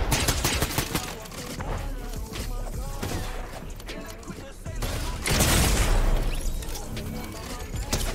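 Gunfire from a new gun in Fortnite during a 3v3 Zonewars match, loud repeated shots and blasts with a heavy burst of explosions near the middle, busy game noise throughout.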